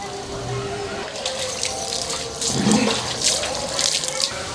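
Water runs and splashes steadily indoors as someone bathes, a continuous wash of spatter that grows louder partway through, heard alone without talk.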